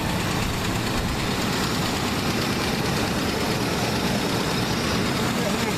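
An old car engine idling after a cold start in October, giving a steady, dense rumble with a low throb that stays loud and constant throughout, no other sounds standing out.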